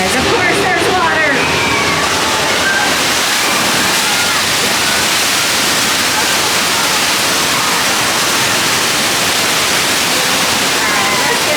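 A rushing water effect sprays and cascades on the Universal Studios Hollywood studio tour, a loud, steady broadband wash lasting throughout with crowd voices mixed in at the start.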